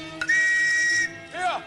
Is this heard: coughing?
no